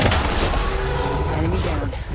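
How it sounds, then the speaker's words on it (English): Video game gunshots fired at an enemy team in a battle royale shooter, a busy, continuous spray of gunfire and thuds, loud and close, with a voice partly audible under the shooting. "I'm taking shots. Firing. I shot at an enemy team."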